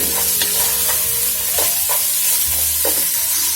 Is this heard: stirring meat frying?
yes